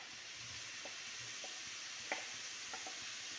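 Tomatoes, capsicum and carrot sauté with onions in a pan, giving a soft, steady frying hiss with a few faint utensil taps, no talking.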